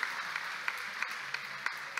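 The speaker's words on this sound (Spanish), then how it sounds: "Lo recibimos con un aplauso entonces al ingeniero Andrés Alfaro Villanueva" A ceremony crowd greets an engineer with applause, a soft, even wash of many hands clapping at a distance for about two seconds, with a few sharper claps standing out.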